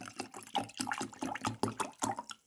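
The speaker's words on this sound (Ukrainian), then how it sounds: "беремо бутилочку з холодною водою і швиденько заливаємо у баночку" Cold water poured quickly from a bottle into a jar, a close, gurgling, glugging pour in uneven pulses that trails off at the end.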